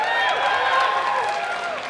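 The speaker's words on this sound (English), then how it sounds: "I like the crowd backing this up." Crowd cheering and applauding at an IPL League of Legends all-stars show match at SXSW, a steady, loud wash of clapping and voices running for two seconds, with a host speaking over it.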